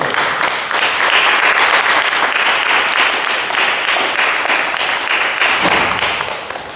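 A church congregation applauds together, a dense, steady burst of clapping from many hands that fills the room at full volume before tapering off slightly at the end.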